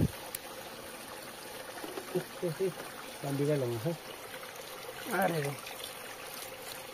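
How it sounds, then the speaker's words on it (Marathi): Water trickles from a seeping spring on a mountain trek near Kalsubai peak, a faint continuous dribble running beneath several bursts of people talking. "हे पाझरतं इथे पाणी"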